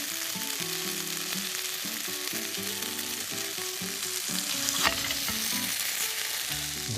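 Pork jowl (hangjeongsal) frying in a pan, giving a dense, steady sizzle that stays loud and close throughout, with no voices, only background music tones running underneath.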